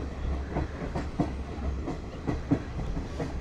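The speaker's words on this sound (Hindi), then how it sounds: "धीमी धीमी रफ्तार में ट्रेन बढ़ रही है आगे" A train rolls slowly along the Ella line in Sri Lanka, a steady low rumble broken by regular clickety-clack wheel beats on the rail joints, close and moderately loud with no talk.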